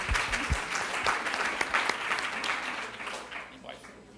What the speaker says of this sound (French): c'est bon, je vous applaudis